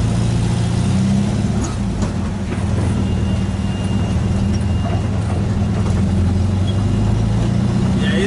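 A Volkswagen Kombi van's engine runs steadily while driving, with a continuous low drone and rumble that stays loud and constant throughout and no talking.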